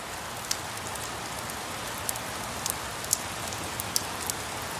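Steady rain falls as a continuous wash, with a few brief louder drop ticks scattered through it, fairly close and with no voices.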